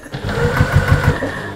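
Sewing machine running a short burst of top stitching on an armchair sewing caddy, a steady close mechanical whir with rapid rhythmic needle thumps.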